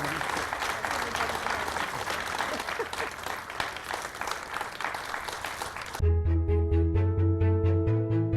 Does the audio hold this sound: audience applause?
yes